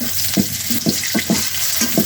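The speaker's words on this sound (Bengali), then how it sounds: "কাঁচা ভাজা হয়ে আসতেছে তো কাঁচামরিচ দিয়ে দিলাম" Green chilies and onions sizzle and fry in a pan while a utensil stirs in a steady rhythm of repeated scraping strokes.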